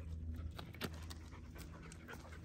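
A dog pants quickly and rhythmically on a rocky mountain hike, breathing close by with a few rustling steps, fairly quiet overall.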